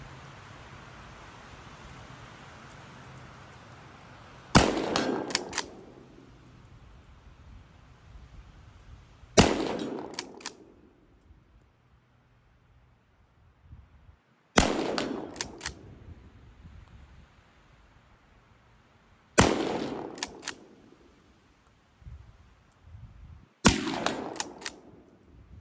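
Five loud, sharp rifle shots from a Swiss straight-pull K11 or K31, spaced about five seconds apart, each with a booming echo that decays into quiet outdoors before the next.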